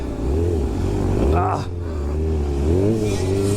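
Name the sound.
motorcycle engine running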